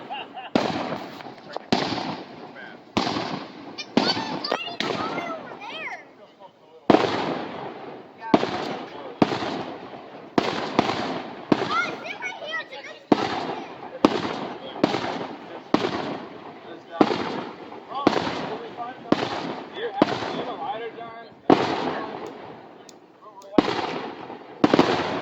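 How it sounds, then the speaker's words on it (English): Neighborhood fireworks on July 4th burst in a long run of sharp, loud explosions, some spaced and some in quick clusters, echoing between houses for over twenty seconds, with voices talking faintly now and then. "We got fireworks wars."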